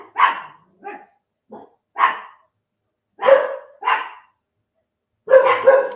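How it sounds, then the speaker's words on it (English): Dogs bark in short, loud bursts nearby, about seven separate woofs with gaps of silence between them, some doubled up toward the end. "I can't think when they're barking like that"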